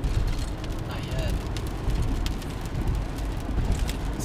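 Heavy rain falls during a thunderstorm and hisses in a steady, dense downpour on surfaces nearby. A voice talks over the constant wash of rain.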